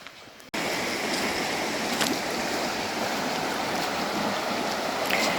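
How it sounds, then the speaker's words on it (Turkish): The Melendiz stream in Ihlara Valley flows nearby in a constant broadband rush of water that starts abruptly and holds steady and fairly loud, with no talking. "Şırıl şırıl, şırıl şırıl suların içerisinde, gölgede, ağaçların arasında"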